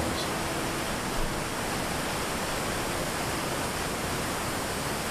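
Rushing waterfall water pours over rocks in a snowy winter countryside, a steady, dense broadband roar that fills the whole clip without pause, fairly close and constant.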